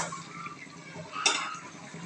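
A lid lifted off a pot of prawn curry, then stirring, with soft clinks of metal against the pot. One brighter clink near the middle stands over a low, quiet kitchen background.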